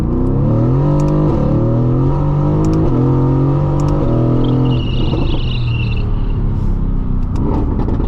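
Mercedes-AMG GT S in sport mode accelerating hard, its engine note climbing through several rising pulls with shifts between them, loud and close from inside the car, then easing off into a lower rumble.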